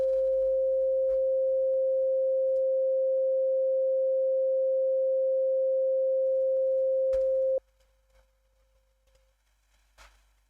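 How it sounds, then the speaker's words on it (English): A single steady sine wave test tone, loud and unbroken for about seven seconds before cutting off abruptly, followed by faint quiet noises. "Sine wave."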